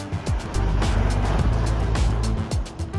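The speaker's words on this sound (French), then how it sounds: "convoi exceptionnel transporte un énorme bateau à travers les rues de Thonon-les-Bains" A heavy exceptional-load convoy truck hauls an enormous boat on a long trailer through the streets of Thonon-les-Bains, a steady loud low engine rumble with passing traffic swells, close and continuous.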